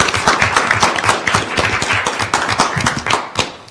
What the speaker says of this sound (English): Another round of applause for them, I think?